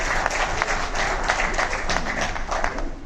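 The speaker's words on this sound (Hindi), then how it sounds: "जोरदार तालियों से आप स्वागत करें" Conference audience in a hall breaking into loud, sustained applause as a guest arrives, dense clapping holding steady for the full stretch with no speech over it.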